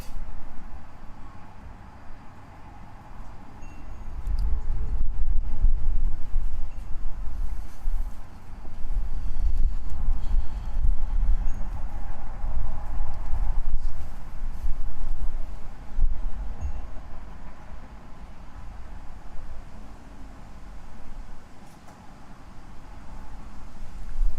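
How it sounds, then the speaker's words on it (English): Steady wind buffets the microphone with a deep, continuous rumble that swells and eases over time, outdoors at a lawn bowls match, with no other clear sounds on top. "Still quite windy out there though."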